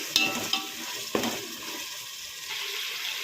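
Ginger garlic paste fries in a pan for biryani, making a steady close sizzle. A few sharp spatula clicks and scrapes of stirring come through early on.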